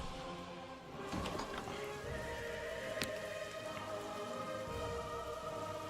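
Steady rain falling in the real-time strategy game Tabletop Tavern, an even wash of patter running through the whole stretch, joined by a horse's whinny and clip-clopping hooves early on.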